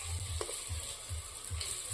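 Lentil fritters fry in hot oil with a soft, steady sizzle, quiet and close, with low thumps from the pan recurring at a regular pace through the short stretch.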